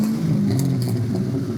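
A Terminator Cobra Mustang's engine idles steadily, a low rumbling drone with a faint mechanical clatter, close and continuous with no talk over it.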